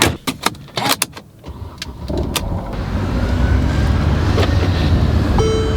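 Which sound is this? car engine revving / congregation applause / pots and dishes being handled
car engine revving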